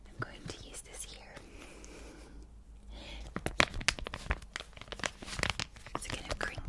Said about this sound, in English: It's kind of crinkly sounds.